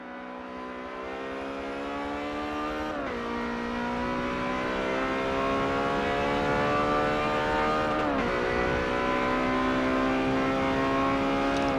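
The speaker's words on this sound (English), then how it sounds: "This is the hot lap for the Ferrari 355" Ferrari 355 on a hot lap in Forza Motorsport 7, the engine howling as it climbs steadily through the revs, dropping sharply at two gear changes, loud and alone.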